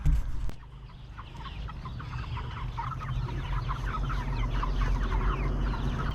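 Meat chickens clucking in a PVC-pipe chicken tractor on a homestead, a steady chorus of busy, overlapping clucks and chatter close by, with a brief bump at the start.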